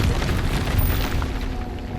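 In Hogwarts Legacy, an Incendio fire spell goes off as a loud, sustained whooshing roar with a heavy low rumble that stays dense throughout and eases slightly toward the end.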